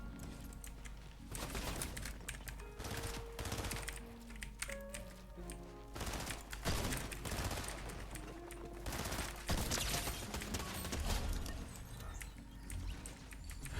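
Repeated bursts of rapid gunfire ring out in a Fortnite match played on keyboard and mouse, with clusters of shots, short pauses between volleys and some brief tonal game effects.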